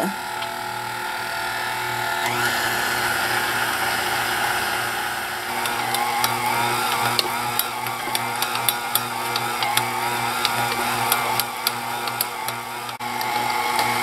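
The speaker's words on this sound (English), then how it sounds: "Next, I put on my dough hook, and now we're going to knead this until it's very smooth." A stand mixer fitted with a dough hook kneads bread dough for cinnamon raisin bread, giving a steady mechanical motor hum with scattered rhythmic clicks and knocks.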